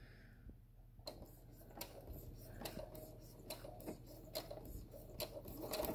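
A sewing machine stitching and backstitching a fabric mask seam, rapid mechanical clatter starting after a quiet moment and running in bursts with small ticks, close and moderately quiet.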